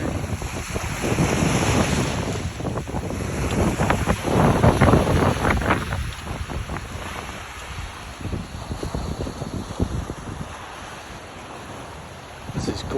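Ocean surf and wind at Pierce's Point Beach, New Jersey, with waves washing continuously and gusts buffeting the microphone in loud rushing swells.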